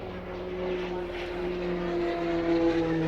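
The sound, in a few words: Tucano aircraft flying at Waddington airshow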